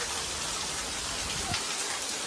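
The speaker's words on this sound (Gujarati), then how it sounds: "તો ગાઈસ જો વરસાદ બહુ પડતો હતો" Heavy rain pours down steadily on a temple courtyard during a monsoon shower, a dense even hiss of drops striking surfaces from start to finish, with no voices.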